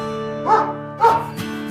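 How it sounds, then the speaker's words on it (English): Cartoon dog sound effect for a big dog among toy farm animals, two short barks over a constant tonal music bed, with a soft third bark at the end. "Guys, dog, beautiful big size dog."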